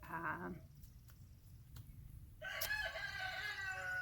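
A rooster crows loudly nearby, a long strained cock-a-doodle-doo following a short cluck, against faint outdoor background.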